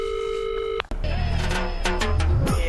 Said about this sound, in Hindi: चलो तब तक एक कॉल करके आता हूँ